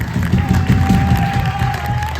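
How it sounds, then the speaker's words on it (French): Live concert crowd applauding and cheering for a band's sound engineer at Le Néo, a dense, loud wash of clapping that continues steadily through the whole short stretch. "on va applaudir très fort Enzo s'il vous plaît."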